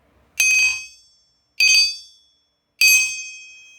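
A hammer strikes the tail of a Harbor Freight Doyle anvil three times at even intervals, each blow a bright metallic ring that decays slowly. The strikes are close and clear.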